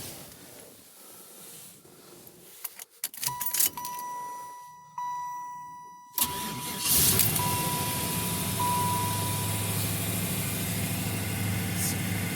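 A car starting after keys jangle and a chime sounds: a cranking burst, then the engine catches and settles into a steady, close idle.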